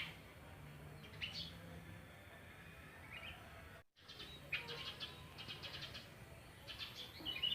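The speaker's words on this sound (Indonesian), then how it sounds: "Nih burung pentet yo, mantap." A long-tailed shrike calls with a few short, sharp chirps scattered over a quiet outdoor background, faint and at moderate distance, with a brief dropout midway and soft low noise throughout.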